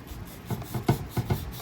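Sandpaper bent over a fingertip rubbing a toy Mustang car body, a few soft close scratchy strokes in a quiet setting.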